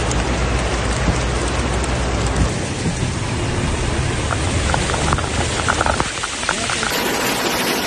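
Heavy rain with hail pours down steadily in Saudi Arabia's Asir region, a loud dense hiss and patter filling the whole stretch, with a low rumbling wash early on that drops away partway through.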